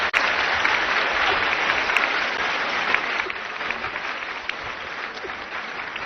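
Studio audience applause at a Delhi-NCR news discussion program, a steady dense wash of clapping held at an even level for several seconds, easing slightly toward the end with no talk over it.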